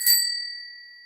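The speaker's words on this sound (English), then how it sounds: "Hit the notification bell." A single bright notification bell ding strikes once and rings out, its clear tone fading slowly over about a second, alone and moderately quiet.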